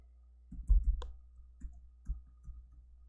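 Keys are tapped on a computer keyboard while entering a password and pressing Enter, giving a handful of sparse, close, light clicks in a quiet room.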